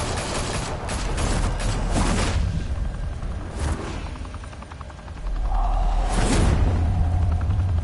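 Gunfire in Batman: The Telltale Series rings out in a few sharp bursts and booms, with a rumbling whoosh near the end and no talk over it.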